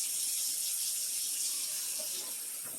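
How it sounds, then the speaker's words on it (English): Hard-boiled eggs are tipped into a colander under a running kitchen tap, a steady bright hiss of flowing water with faint knocks of the eggs, heard close and without talking. "I'm going to dump them into the colander with the water running on it."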